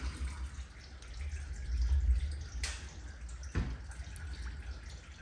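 Motor oil, going full synthetic, poured into the oil filter of a 2022 Ford F250 Super Duty with a 6.7L engine, a soft continuous liquid trickle that is faint and close, with a couple of brief clicks and no talking.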